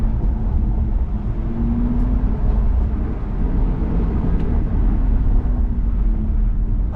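A BMW drives through a built-up street with Active Sound Designer off, its engine and exhaust giving a steady, fairly loud low rumble that holds evenly throughout with no voices.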